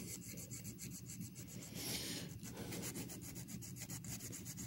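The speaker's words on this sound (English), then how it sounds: "You file it a little bevel in the edge of this." A hand file rasps a small bevel along the edge of a small-block Chevy rear main bearing, with steady, close scraping strokes running continuously and a brief brighter burst midway.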